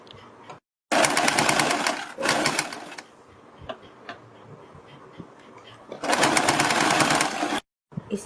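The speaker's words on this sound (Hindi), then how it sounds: "इसके बाद हम बिल्कुल आमने सामने इनको इस तरह से रखेंगे और फिर दूसरी साइड की पट्टी सील देंगे" A sewing machine stitches a fabric strip for a plate-style neckline, running in two loud, steady rapid-clicking bursts near the start and end, with quieter handling of cloth in between.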